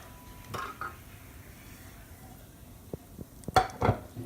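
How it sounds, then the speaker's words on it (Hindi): Dry vermicelli dropped into fully heated oil in a pan, giving a few scattered clinks and rattles of utensil against metal, with a louder clatter near the end and only a faint background sizzle. "तब मैं इसमें सेवइयाँ ऐड कर रही हूँ"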